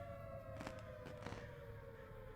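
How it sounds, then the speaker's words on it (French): A small alarm rings in the horror video game Summer of 58, a faint steady tone sustained over a low background hum, punctuated by a few brief soft clicks or thuds. "Il y a cette petite alarme qui retentit."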